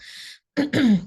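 A speaker at an academic address gives a short sibilant breath, then after a pause a harsh cough followed straight away by a rasping throat clear, close to the microphone with no words spoken.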